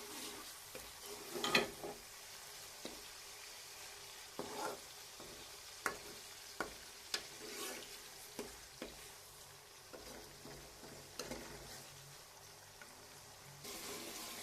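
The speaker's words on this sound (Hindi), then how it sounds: "अब हम इसमें टमाटर डालते हैं। अब इसको अच्छी तरह से पहले फ्राई करना है ताकि ये मिक्स हो जाए अच्छी तरह से।" Tomatoes frying with browned onions in a pan for a Pakistani kofta curry, heard as a soft steady sizzle with repeated sharp scrapes and clinks of stirring, close and alone with no talk.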